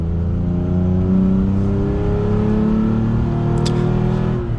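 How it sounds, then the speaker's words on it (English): A 3rd-gen Toyota Tacoma pickup on larger tires accelerates at full throttle, its engine note a loud, steady, rising drone heard close and alone with no talk. "Let's go ahead and give it full throttle here."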